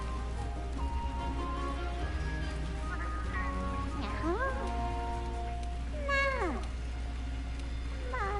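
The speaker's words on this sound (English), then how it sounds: "That is one granny cat." Several cat meows from Monster Hunter World: Iceborne ring out over a steady game soundscape, two drawn-out rising and falling calls standing out in the second half, with faint talk and background tones underneath.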